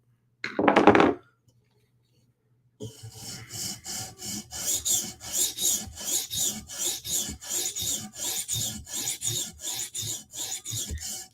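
A Chris Reeve Sebenza tanto blade drawn across a sharpening stone to reprofile the bevel makes a steady run of rhythmic rasping strokes, close and clear, after an opening scrape and a short pause.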